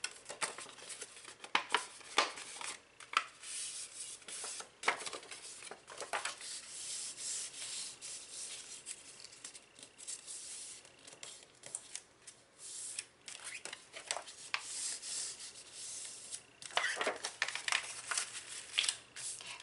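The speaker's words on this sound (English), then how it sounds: "I'm going to go ahead and fold all of my score lines." Designer series paper being folded along score lines, with steady dry rubbing and creasing scrapes that come in repeated strokes, close up and with no talking.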